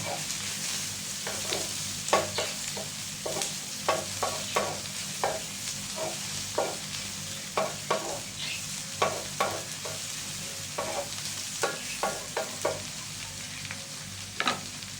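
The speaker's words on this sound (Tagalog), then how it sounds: "Garlic at red chili ang susunod natin na igisa." Garlic and red chili sizzle steadily in hot oil in a pan, while a utensil scrapes and taps against the pan in frequent short, irregular strokes close by.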